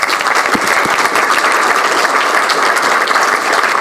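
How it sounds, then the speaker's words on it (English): Audience applause after a team project presentation: dense, steady clapping that stays loud and even from start to finish, with no voices over it. "Let's give them a big round of applause."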